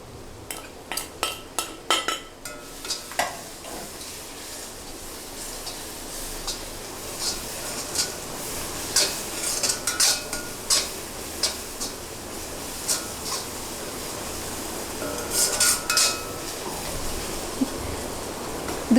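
A metal spoon stirs chili powder and biryani masala in a pan for chana masala. Rapid clinks and scrapes start the clip, then come steadier taps and scraping over a low background hiss, with no talking.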